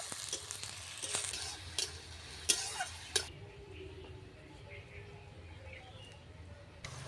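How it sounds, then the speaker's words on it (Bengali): Chopped onions dropped into hot oil, a loud bright sizzle with sharp clattering stirs for the first few seconds, then settling into a softer, steady frying hiss up close, with a voice talking over it. "তেলটা গরম হয়ে গেছে এরপর আমি দিয়ে দিচ্ছি পেঁয়াজ কুচি পেঁয়াজ কুচিগুলো দিয়ে দিয়েছি এরপর ভালো করে ভেজে নেব"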